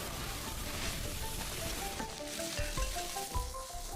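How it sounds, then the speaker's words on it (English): Chicken sizzles in hot oil during Chinese stir-frying in a wok, giving a loud continuous crackling hiss with scraping stir strokes and a few clanks near the end, without any talking. "Chicken sizzles in hot oil for a minute, while eggs flip in the wok for 4 seconds."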